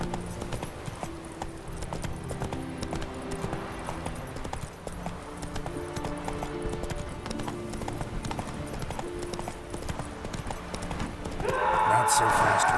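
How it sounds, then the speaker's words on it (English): Hooves clip-clop steadily as a horse gallops in The Witcher 3, a continuous rhythmic pounding heard close and under game music, swelling louder near the end. "Alright, Roach, take me there"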